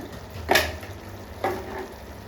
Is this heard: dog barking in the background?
no